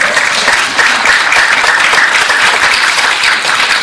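Loud, sustained applause from an audience at a Yangcheon district candidate debate, dense clapping filling the room from start to finish.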